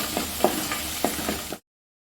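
Curry leaves sauté in hot oil in a pan for chicken kulambu, a close steady sizzle punctuated by about five quick scraping stirs of a spoon before the sound cuts off.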